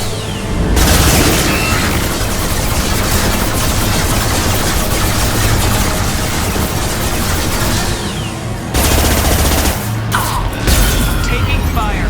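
Mass Effect 2 combat: continuous heavy gunfire with booming explosions and mechanical clatter against a hostile combat platform, loud and dense throughout, with brief dips between bursts.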